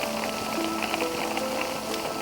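Steady rain falling at night, a continuous hiss of drops on surfaces with scattered brighter patters, moderately loud and close, with no voices over it.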